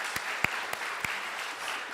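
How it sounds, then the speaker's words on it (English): A church congregation claps in a steady, moderate patter of applause, heard from across the room and fairly quiet, with a few sharper individual claps standing out. "Let's give them a round of applause."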